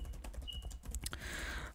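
Quick, close keystrokes tap unevenly on a computer keyboard while MATLAB code is entered, followed by a short burst of faster typing near the end.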